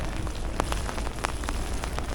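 Steady rain hisses nearby, with scattered drops pattering and tapping sharply on a surface throughout.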